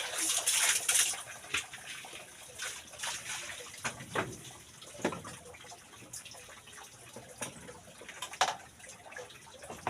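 Running tap water splashes and patters unevenly while something is washed, with intermittent louder gushes and clatter at close range.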